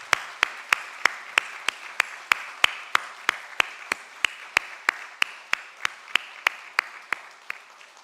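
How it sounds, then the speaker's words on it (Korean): A church congregation claps in steady, evenly spaced claps one after another at a brisk pace, crisp and fairly close, with no talking over them. "우리 인사할 때 여러분들 큰 박수 보내주시기 바랍니다."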